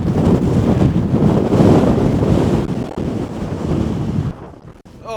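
Ferocious wind roars over the microphone at an exposed coastal viewpoint, loud and constant with gusty buffeting and no voices, then dips briefly near the end.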